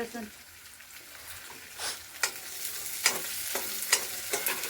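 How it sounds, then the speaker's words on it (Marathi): Onion, garlic and cumin fry in hot oil for an okra bhaji: a soft steady sizzle punctuated by repeated scraping stirs of a spoon in the pan. "कांदा लसूण आता बऱ्यापैकी तेलामध्ये भाजून घेत आहे"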